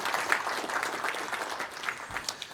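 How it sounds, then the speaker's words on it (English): Audience applause at a government technology forum, a steady wash of many hands clapping at moderate distance, continuous throughout with no voices on top. "we could get a round of applause for those folks for making this happen"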